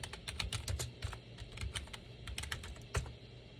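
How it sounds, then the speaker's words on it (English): Rapid typing on a computer keyboard, a dense run of crisp, close key clicks with one louder stroke near the end, no voices. "I was typing so fast"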